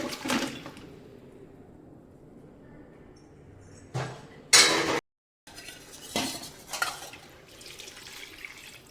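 A kadai is set on the stove and cooked mutton is added, with metallic clanks and knocks of cookware and utensils, a louder clatter midway, then softer scraping and stirring nearby, without talk.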